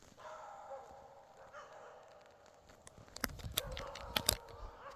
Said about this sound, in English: as you can hear, there's multiple dogs back there